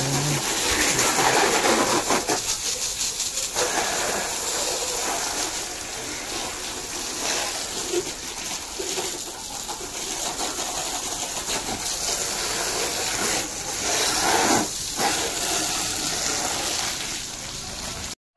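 Water sprays hard onto a hot car during a wash, a loud, continuous hiss and splatter that rises and dips slightly over about eighteen seconds, with no talking.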